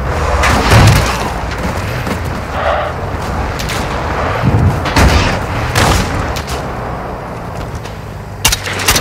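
Dense, loud combat from Warzone 2.0 DMZ: deep booming explosions and rolling gunfire overlap continuously, with several sharp crack-like shots standing out and a final burst near the end.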